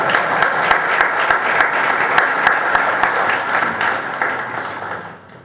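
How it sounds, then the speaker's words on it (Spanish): Audience applause at a 2008 book launch, sustained and dense with sharp individual claps standing out, holding steady before tapering off near the end. "Recibamos entonces con un fuerte aplauso a Cale, Juan Carlos Vélez Escobar."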